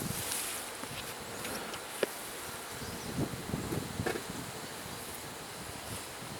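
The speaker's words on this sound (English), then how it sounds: "There's a lot of bees all over it" Honey bees swarm over the top of an open hive being smoked during a requeening check, producing a soft, continuous buzzing hum that is faint and steady, with light rustling and an occasional click.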